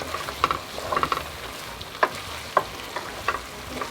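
Capers and cherry tomatoes being folded through a frying pan for Sicilian tuna and tomato pasta, a soft continuous sizzle with scattered light spoon taps and stirring knocks.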